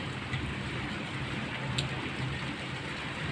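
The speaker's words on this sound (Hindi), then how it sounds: "और इधर बारिश हो रही है" Light drizzling rain falling steadily outside a house, heard as a soft, even hiss with faint scattered drops and no speech.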